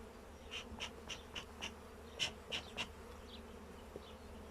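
Carniolan honey bees humming at an open hive during a pre-harvest inspection, a low steady drone with several soft, rising buzzes of single bees passing close, quiet and without talk.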